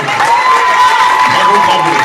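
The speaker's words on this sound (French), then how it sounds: "Nous avons Beagle Ninja. On applaudit." An audience at a Magic Mirrors stage show cheers and applauds for a performer, a loud continuous crowd wash with whoops and a sustained high shout riding over the clapping.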